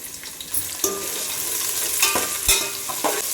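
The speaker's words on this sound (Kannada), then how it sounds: "ಈರುಳ್ಳಿ ಸ್ವಲ್ಪ ಕೆಂಪಗಾಗೋ ತನಕ ಹುರ್ಕೊಂಡ್ರೆ ಸಾಕಾಗುತ್ತೆ" Sliced onions fry in oil with green chillies for a Mysore white chicken pulao, a steady nearby sizzle broken by several sharp knocks and scrapes of stirring.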